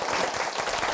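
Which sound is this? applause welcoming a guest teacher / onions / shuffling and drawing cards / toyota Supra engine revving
applause welcoming a guest teacher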